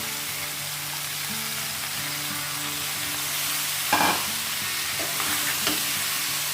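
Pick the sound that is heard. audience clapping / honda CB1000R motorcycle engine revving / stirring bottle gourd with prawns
stirring bottle gourd with prawns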